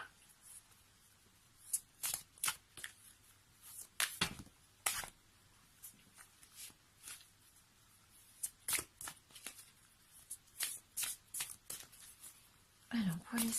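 Tarot cards are shuffled in short, crisp bursts of riffling and slapping, fairly close and intermittent, with quiet French speech between the shuffles.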